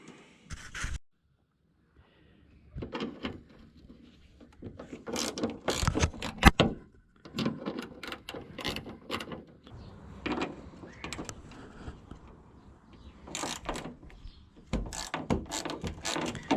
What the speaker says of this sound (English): The only tool I'll need is this ratchet 10mm here.